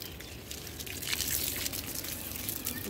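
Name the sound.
water pouring onto plants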